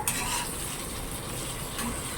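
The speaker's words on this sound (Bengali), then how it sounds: "এই যে কড়াইতে ভাজা হচ্ছে" Vegetables fry in oil in a wok (kadai), giving a faint, steady sizzle with soft crackle and no voices throughout.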